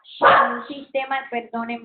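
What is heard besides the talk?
dog barking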